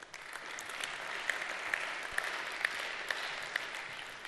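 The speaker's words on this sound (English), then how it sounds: "Applause." Conference audience applauding at an economic session on transport, a faint, steady patter of many hands from a distance with a few sharper individual claps standing out.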